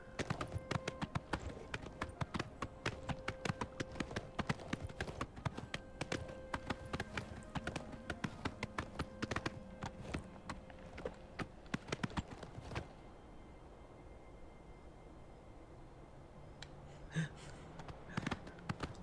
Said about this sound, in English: Let's see what happens if I just jump on this horse.